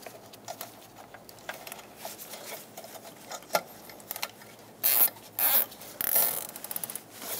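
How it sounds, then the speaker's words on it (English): A zip tie ratchets tight around an exhaust hanger under a 2014-2021 Mazda 6, scattered soft ticks followed by several close, loud zipping pulls in quick succession. "I'm going to have to use a wire tie on this because I don't have a new clip to secure this."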